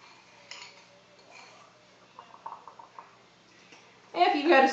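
A metal utensil scrapes and clinks against a mug as blueberry cobbler batter is worked out of it, with soft, irregular taps in the middle and a louder burst of scraping at the end.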